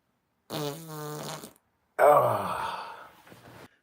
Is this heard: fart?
yes